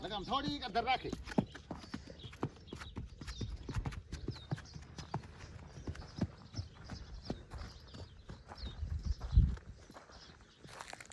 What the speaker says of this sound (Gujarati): અને આ ઘોડા